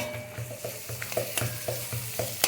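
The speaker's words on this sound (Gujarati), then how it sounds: "આદુ લસણની અને મરચુંની પેસ્ટ નાખી દઈએ. હવે એને આપણે મિક્સ કરી દઈએ." Ginger, garlic and chili paste sizzles in a pan while a spoon stirs it, giving a soft, steady fry crackle broken by repeated light scraping taps.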